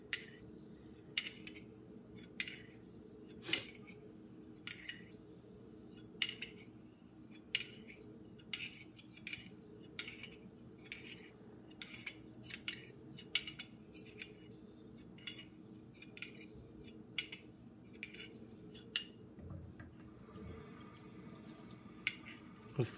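A blade being honed on a wet Charnley Forest sharpening stone with murky slurry, heard as sharp, regular scraping strokes and wet clicks at a steady pace, close and fairly quiet over a faint hum.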